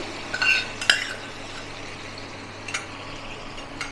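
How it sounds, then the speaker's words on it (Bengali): Chicken frying lightly in a pan just as tomato sauce goes in for a restaurant-style chili chicken, with a few clinks of a utensil against the pan near the start and then a soft steady sizzle. "এটা হালকা করে ভেজে নিচ্ছি। এবার এটা যে বানিয়েছি টমেটোটা, এটা দিয়ে দেবো।"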